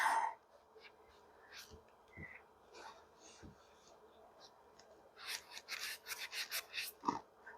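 A sneaker eraser sponge rubs a white shoe sole in quick, close scrubbing strokes, a burst of rasping friction at the start and a denser run of rhythmic swipes near the end, with quieter handling between.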